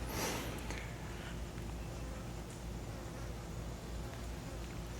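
Small bugs buzz in a constant, close drone that fills the whole stretch without pause, a dense whirring hum with a louder flutter at the very start.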